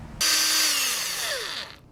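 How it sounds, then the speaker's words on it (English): Power drill driving a screw through the aluminum side of a food truck window frame into a 2x4 behind it, one short close whine that starts abruptly, holds, then slows and winds down as the screw seats. "so I'm just going to go ahead and screw that in"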